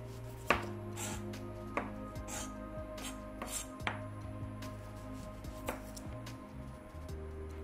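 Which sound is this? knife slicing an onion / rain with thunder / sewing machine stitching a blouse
knife slicing an onion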